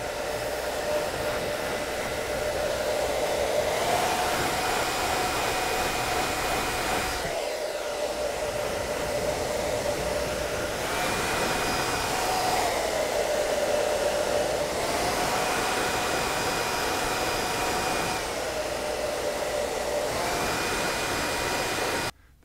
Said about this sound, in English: A nice hot hair dryer is going to melt the mustache wax and make it more malleable